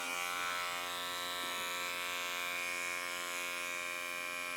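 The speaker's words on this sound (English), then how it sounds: "keep the clipper against the head until you hit occipital" An electric hair clipper buzzes steadily and closely through a basic men's haircut, a continuous dense whine with bright harmonics, sounding alone with no talking.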